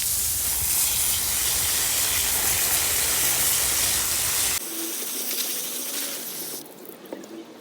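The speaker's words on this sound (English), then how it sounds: "Give it a nice light rinse and then let it dry off naturally." Water sprays steadily over a K&N engine air filter in a loud, continuous hissing rinse. After a few seconds the flow changes to a lighter, thinner spatter.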